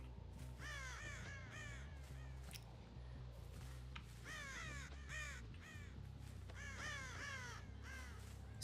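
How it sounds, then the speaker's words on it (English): Crows in the video game Dead by Daylight caw in repeated clustered bursts over a low droning game ambience, each flurry of harsh calls separated by short pauses. "So many birds."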